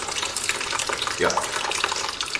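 Water drains out of a part on a 1971 Gravely 430 tractor, a steady close trickling and splashing stream that runs continuously without pause.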